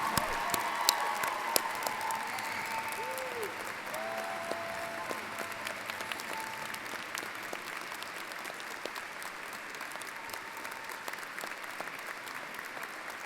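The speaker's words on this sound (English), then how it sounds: "How about a round of applause for her?" Sustained audience applause at a university inauguration ceremony, dense steady clapping filling the hall for the full stretch with faint voices and cheers mixed in.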